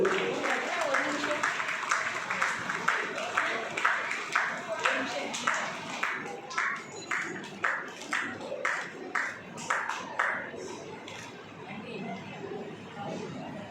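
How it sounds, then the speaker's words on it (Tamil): An audience at a Bharathi festival awards ceremony applauds an award recipient, with crowd chatter running throughout and the clapping settling into a steady rhythmic beat through the middle before thinning out. "உங்கள் பலத்த கரகோஷங்களோடு"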